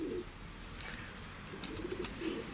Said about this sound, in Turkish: Bak de değişik bir güvercin aldık yani